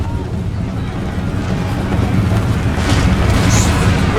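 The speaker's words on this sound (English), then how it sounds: "Oh, artillery's coming in at close range." Artillery fire in the video game Empire Total War rumbles as a continuous, loud, low booming roar of battlefield noise, swelling slightly toward the end.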